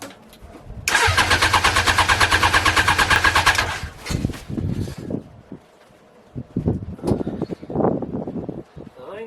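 A Honda Fireblade motorbike engine cranks with a fast, rhythmic starter chatter for about three seconds, then catches. People talk nearby, mixed with engine sounds, as it settles.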